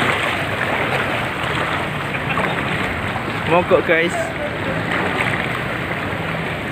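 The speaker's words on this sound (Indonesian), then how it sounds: "Gak kuat menerjang derasnya ombak" Churning floodwater waves wash across a flooded road at a red-light intersection during heavy rain, a steady broadband rush throughout, with someone speaking briefly over it.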